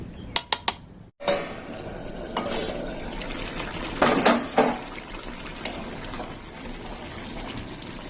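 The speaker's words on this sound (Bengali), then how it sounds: "এবার নারকোলটা চিপে চিপে দুধটা বার করে নেবো নিয়ে ছেঁকে নেবো" Soaked grated coconut is squeezed by hand to press out coconut milk, giving a steady wet, squelching and trickling sound with a few sharp clinks at the start, close by and alone.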